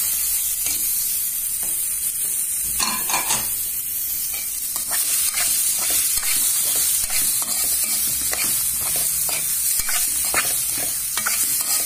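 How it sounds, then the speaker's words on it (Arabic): Chicken livers fry in a pot with a loud continuous sizzle while a utensil stirs them, scraping and clinking against the pot up close. "وهقلب كله مع بعض. وهنزل بكبد الفراخ"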